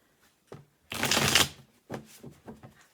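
A deck of cards riffle-shuffled in one dense, crisp burst lasting about half a second, followed by a few softer taps and card slides.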